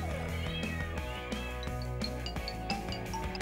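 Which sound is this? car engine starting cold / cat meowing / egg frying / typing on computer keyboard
cat meowing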